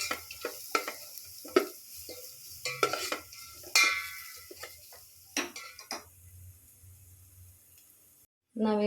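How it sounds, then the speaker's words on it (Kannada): Spices and ground paste frying and being stirred in a pan for tomato rasam, with intermittent scraping and clinking strokes of a spoon against the pan over a low sizzle, close and moderately loud. "ಹಾಕಿ ನೋಡ್ತಿರ್ಬೋದು ಫ್ರೈ ಮಾಡ್ಕೊಳ್ತಾ ಇದ್ದೀನಿ."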